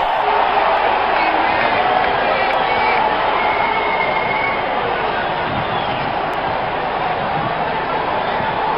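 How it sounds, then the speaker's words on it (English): A dense, steady roar of a video game cricket crowd cheering and shouting, from Real Cricket 19, fills the scene, loud and continuous with no pauses. "greeted with a loud cheer from the crowd."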